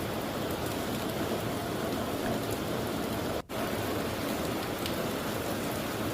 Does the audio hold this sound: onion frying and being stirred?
no